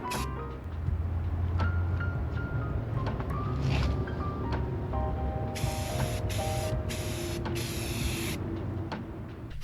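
Spray paint being applied to a removed part of a project van, a continuous loud hiss with short spurts and pauses, some bursts sharper and higher, with no talk.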